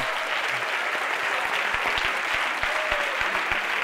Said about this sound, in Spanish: Un aplauso, lo han hecho súper bien.